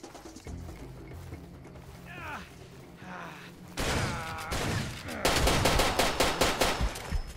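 Far Cry 2 gunfire: after quieter mechanical clicking and a faint voice, loud rapid bursts of automatic fire break out close by and keep rattling in sharp repeated volleys.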